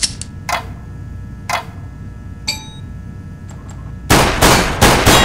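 Pistol shots ring out at targets in Counter-Strike: Global Offensive training mode, several sharp, separate cracks a second apart, then a burst of loud rapid reports near the end.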